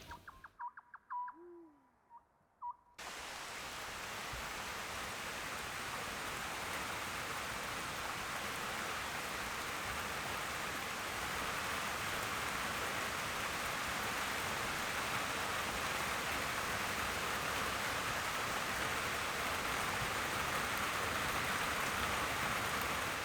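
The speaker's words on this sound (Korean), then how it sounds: "빗소리가 마음과 귓전을 세차게 때리는 오후." Heavy rain pours down in a dense, steady hiss in a remote Korean mountain valley, after a quiet opening where a scops owl hoots softly.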